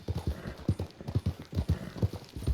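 Hooves of a heavy Shire horse clip-clop in Red Dead Redemption 2, a close, steady rhythm of deep thudding steps with clear, evenly spaced footfalls.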